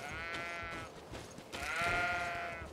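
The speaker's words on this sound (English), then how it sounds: "Can we slaughter the sheep?" Sheep bleat in the video game Greedfall, two drawn-out wavering calls in quick succession, moderately close over a faint background.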